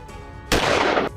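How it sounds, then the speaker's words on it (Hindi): A single loud, sharp blast of gunfire from a shooting, recorded in live footage, follows a quiet stretch and rings out for about half a second before cutting off. "यहां पर फायरिंग का एक लाइव वीडियो सामने आया है।"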